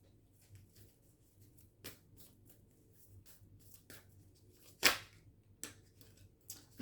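Playing cards shuffled by hand in a quiet room, soft papery riffles and several sharp slaps and flicks as the deck is handled, close and fairly faint, with no talking.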